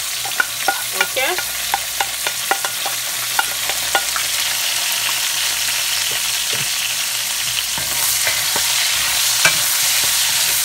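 Peppers and onion with ready-made spice fry in an oiled pan, giving a steady loud sizzle throughout with repeated scraping and clinking of a spoon stirring, no voices.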